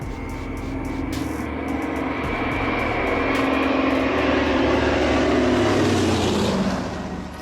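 The piston engines of a vintage DC-3 propeller airplane, over 80 years old, roar steadily in flight, a loud, continuous, close drone that swells slightly and then eases off.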